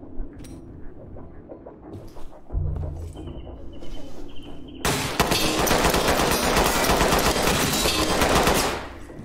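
Gunfire in the tactical shooter Ready or Not: quieter scattered game sounds give way to a sudden, loud, sustained burst of rapid automatic fire that runs for several seconds before cutting off.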